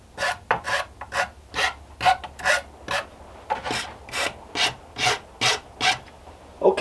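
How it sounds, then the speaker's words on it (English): An old hacksaw blade rasps back and forth between the teeth of a foam demon skull prop, about a dozen short scraping strokes in an uneven rhythm, close and fairly clear with no talking. "I just kind of filed between all my guys' teeth with just an old hacksaw blade"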